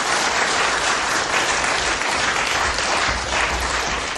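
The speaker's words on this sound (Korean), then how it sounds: "다시 한번 뜨거운 격려와 그 다음에 환영의 박수 부탁드리겠습니다" Steady, dense applause from a large crowd at a political campaign rally, loud and continuous throughout with no voices rising above it.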